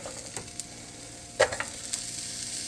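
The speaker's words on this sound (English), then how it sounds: "So I'm just going to add in the onions right now." Onions sizzle in a pan that is warm rather than searing hot, a soft steady frying hiss broken by a few sharp spatula scrapes and taps as they are stirred, with no voices.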